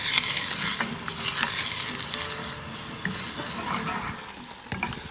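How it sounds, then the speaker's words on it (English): An onion sautés in melted butter in a pan, giving a steady crackling sizzle with scattered stirring clicks, close and moderately loud, with no one speaking. "So add one onion to our butter, and we'll kind of sweat this down a little bit."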